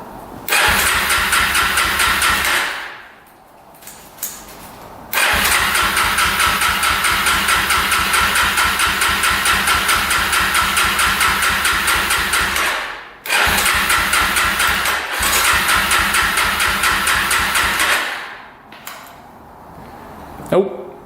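An engine with a gummed-up carburetor cranks repeatedly without catching, three long loud bursts of steady rhythmic starter churning separated by short pauses, close to the microphone.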